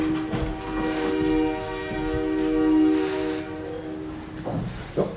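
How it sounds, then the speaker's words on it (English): A train passing outside sounds its horn in long sustained tones, layered over a low rolling rumble, heard from indoors at a city meeting in Newport. "It's the train."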